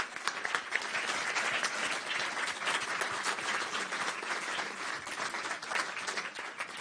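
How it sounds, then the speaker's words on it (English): Sustained applause from a conference audience at an evening session on intelligence, a steady, dense wash of many hands clapping at even loudness for nearly seven seconds, with no talk over it. "I would like you to give a round of applause to the podium"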